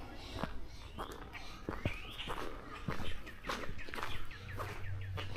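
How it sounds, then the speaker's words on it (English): Birds chirp and call in repeated short bursts on a morning walk through a Maine town, including what may be common grackles, heard at moderate distance over soft footsteps and ambient outdoor noise. "You hear more birds"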